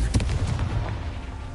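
A Confringo fire spell goes off in Hogwarts Legacy with a sharp blast, followed by a quick cluster of booming, crackling bursts that fade into a rumbling tail.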